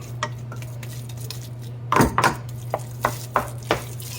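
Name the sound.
stirring mukimo in a pot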